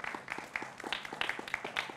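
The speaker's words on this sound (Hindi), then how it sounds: "जोरदार तालियों से अभिनंदन है" A studio audience applauds to welcome panelists at a televised election debate, rapid scattered clapping from a small crowd heard steadily at moderate volume.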